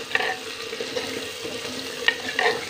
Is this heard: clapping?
no